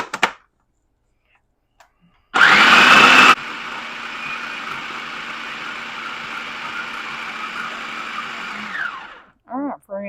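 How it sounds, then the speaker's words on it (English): A blender whirs loudly as it mixes a goat butter shortbread crust, a brief harsh burst at full speed settling into a steady, droning hum for several seconds before cutting off, with a few short knocks around it. "we're going to blend all this together until it's like a crumbly crust"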